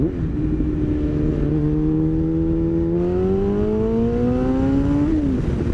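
A Yamaha FZ motorcycle, recently fitted with a heavy-duty clutch, revs loudly and close while downshifting and then accelerating, its engine note climbing steadily through the gears with a brief dip near the end.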